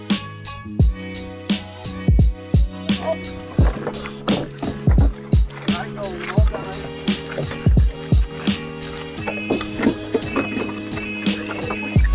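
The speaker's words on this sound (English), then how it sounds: "we were in a quad, so sculling 4 people in one boat" Rhythmic splashes and knocks repeat every second or so as oars of a four-person quad sculling boat catch the water, with creaks and water rushing past the moving boat.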